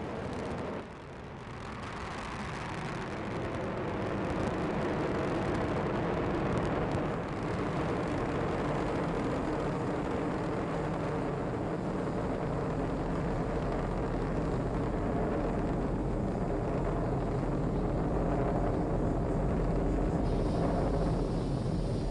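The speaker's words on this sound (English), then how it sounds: "And liftoff of the 22nd SpaceX cargo resupply mission, bringing new solar arrays to the International Space Station." A SpaceX Falcon 9 rocket lifts off on a cargo resupply mission to the International Space Station, a deep, sustained roar that swells within the first seconds and then rumbles on steadily, heard from a distance.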